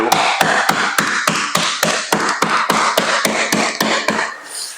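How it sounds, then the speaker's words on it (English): A mallet strikes drywall at a window opening in a steady run of about fifteen sharp, crunching blows, close and loud, with a crumbling rasp trailing each hit. "So the fastest way to do it is to just hammer it and crush the sheetrock."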